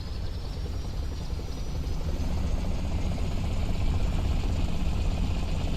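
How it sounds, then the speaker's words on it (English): The Falcon aircraft from Halo Reach hums with a steady droning engine noise that sounds like a helicopter, a continuous low rumble with a broad hiss that holds on without a break and grows slightly louder. "Is that how the Falcon always sounds in Reach? It sounds like a fucking helicopter."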